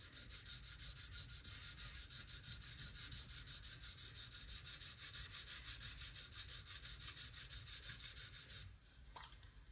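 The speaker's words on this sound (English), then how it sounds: "So it's more secure to work diagonal on the tip while you grind" Steel blade bevel ground against a coarse sharpening stone, working diagonally near the tip: steady rhythmic rasping strokes, close and continuous, ending with a brief knock.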